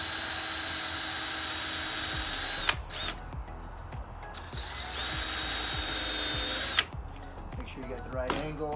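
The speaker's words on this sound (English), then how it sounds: "I like to pre-drill because working on a narrow material like this" A power drill whirs in sustained runs while pre-drilling narrow wood, pausing and restarting a few times with sharp start-stop bursts, close and fairly loud.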